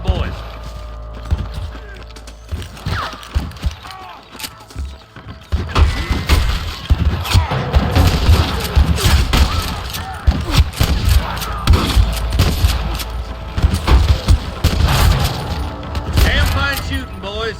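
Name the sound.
gunfire in the video game Red Dead Redemption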